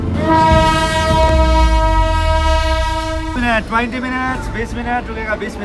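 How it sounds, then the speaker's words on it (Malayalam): A long, loud horn from India's oldest toy train blares steadily, then breaks off as people talk over the rumble and clatter of the nearby train. "നമ്മുടെ ട്രെയിൻ വന്നു കേട്ടോ"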